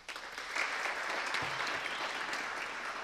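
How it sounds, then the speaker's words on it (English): A brief burst of applause rises from the audience at a city council meeting, a soft, somewhat distant clatter of clapping that holds steady for a few seconds. "Round of applause right there."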